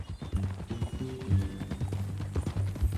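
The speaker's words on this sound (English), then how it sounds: "That a new horse?" Horse hooves clop on the ground in Red Dead Redemption 2, a run of close hoofbeats with a harmonic whinny rising in the middle, fairly loud against quiet surroundings.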